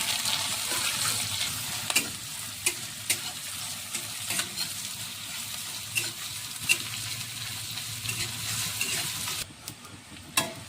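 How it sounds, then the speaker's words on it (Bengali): Chopped onions fry in hot oil with a dried red chili and half a bay leaf for a Bengali mustard hilsa dish, making a loud, continuous sizzle punctuated by sharp clinks of stirring. "পেঁয়াজগুলো আমার ভাজা হয়ে গেছে।"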